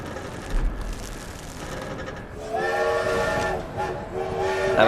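A train rolls along rails in the video game The Saboteur, a steady rumbling clatter with sustained metallic whining tones that swell louder in the second half.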